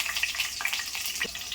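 Green chilies and cumin dropped into hot tempering oil give a steady close sizzle and crackle with small bursts of spattering, continuous throughout.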